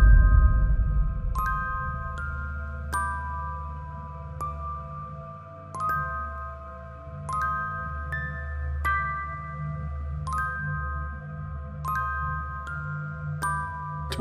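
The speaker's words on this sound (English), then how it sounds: "Cat's bell is jingling." A small bell on a cat's collar jingles in repeated bright, tinkling bursts every second or so, fairly close, over a low background hum with no talking.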